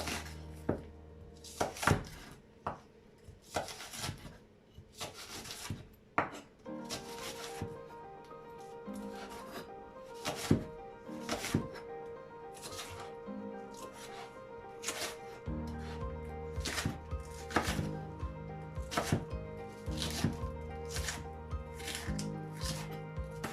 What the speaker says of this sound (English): I will start by cutting my spring onions slightly diagonal